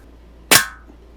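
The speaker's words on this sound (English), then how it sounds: "I'm shooting this thing at 3 power with the scope" A single sharp crack from a Daisy 853 air rifle fired through a scope at a root beer can, loud and close with a short fading tail.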